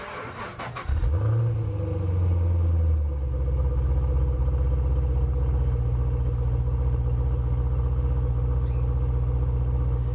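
Chevrolet Camaro with aftermarket headers and turbo-style mufflers starting up and settling into a steady, subdued idle, a deep low rumble that stays quiet and even.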